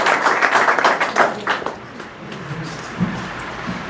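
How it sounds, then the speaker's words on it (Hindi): Audience applause at a local school event in a market area, a burst of clapping that gradually fades out, followed by quieter scattered claps and background murmur. "एक बार जोरदार ताली होनी चाहिए घनश्याम जी के लिए"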